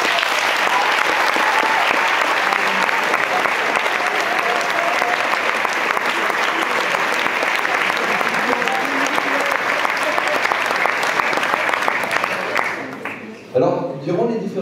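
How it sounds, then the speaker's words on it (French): A large audience at a school graduation ceremony applauds the teachers with loud, continuous clapping lasting over ten seconds, fading near the end as a voice begins speaking. "Je vais vous demander de les applaudir."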